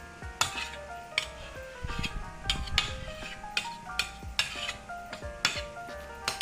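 A whisk beats custard cake batter with flour by hand in a bowl, a quick rhythmic series of clinking, scraping strokes against the sides, close and clear, with no voices.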